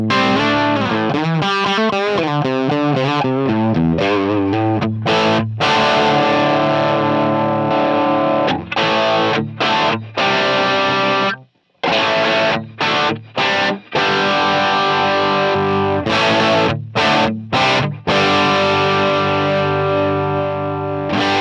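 Electric guitar through a Helix amp model on the bright channel with settings at 5 plays heavily distorted chords and riffs, loud and sustained, with short stops between phrases and one brief full break.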